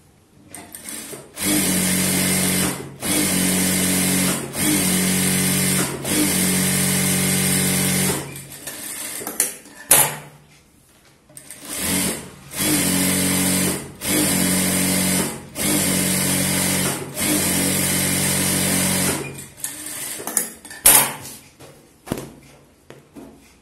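A sewing machine stitches a blouse in repeated bursts of rapid whirring, each lasting about a second with short pauses between, running in two clusters separated by a brief lull.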